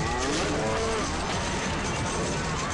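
Cows mooing amid a busy game soundscape in the New York Shark video game, with dense continuous noise and wavering low calls layered throughout, no talk.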